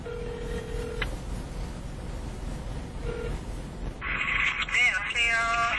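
A telephone is dialed on a Korean talk show, with a steady tone at first, a few short key tones, then a rising burst of ringing and tonal signals toward the end, mixed with low background murmur.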